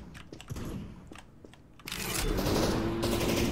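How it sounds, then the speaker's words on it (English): Dense, rapid bursts of game gunfire, crackling and sputtering, starting sparse then building into a loud sustained barrage. "There's some heavy gunfire going on."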